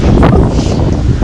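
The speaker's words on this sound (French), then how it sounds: "Ça fait environ une demi-heure que j'ai le vent d'en face." Strong headwind buffeting a runner's microphone during a marathon, a steady loud rushing roar with gusty low rumble throughout.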